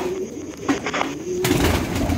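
Hungarian pigeons kept for sale coo softly and repeatedly, close by, with a rise in broadband background noise partway through.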